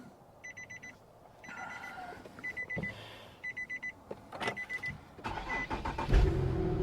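An Infiniti's starter whirs in several short bursts with electronic chimes beeping over them, then the engine catches and settles into a low, quiet idle.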